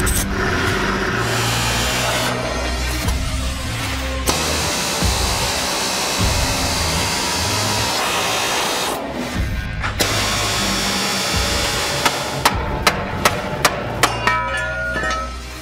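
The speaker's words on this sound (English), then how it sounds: "Finally got all the stinking rivets knocked out of this thing." Loud continuous pneumatic air hammer knocking out old rivets on a 1952 GMC 3100 truck, a rapid mechanical rattle that stops briefly, resumes, then breaks into sharp metallic knocks near the end.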